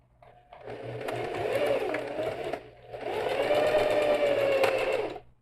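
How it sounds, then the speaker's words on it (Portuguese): A sewing machine stitches the bottom and side seams of a bag lining, running in two sustained close bursts with a brief pause between them, its motor whirring under the rapid needle chatter. "o próximo passo é costurar fundos e laterais com a margem de costura"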